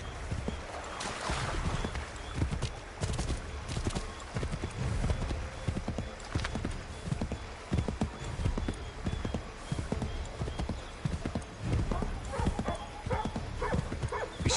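Galloping horse hooves in Assassin's Creed III, a fast, steady clip-clop rhythm close up and continuous across the stretch, with a faint whinny early on.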